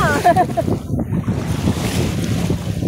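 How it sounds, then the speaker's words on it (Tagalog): Sea waves and wind along the seaside near Kuwait City, a steady broadband wash of surf with wind rumbling across the microphone, a few brief chirpy tones near the start, and no talk. "Nandito kami sa dagat."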